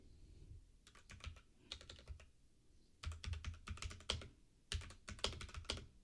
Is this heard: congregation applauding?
no